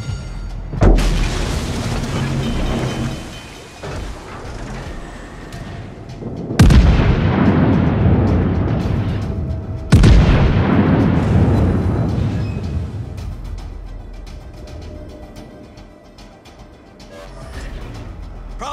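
Heavy artillery fire: three loud booming blasts, each with a long rolling decay that fills the gaps between them, dominant and close.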